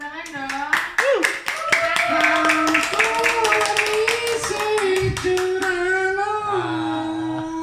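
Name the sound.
audience applause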